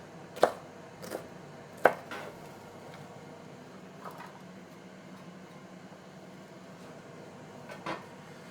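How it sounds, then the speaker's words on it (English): Knife chopping snack peppers into small cubes on a cutting board, a few sharp, sparse taps spaced irregularly over a quiet room hum, the first strikes crisp and loud, later ones softer. "So I'll just cut those lengthwise and then across to make little cubes."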